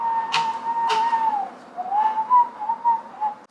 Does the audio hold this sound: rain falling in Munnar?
no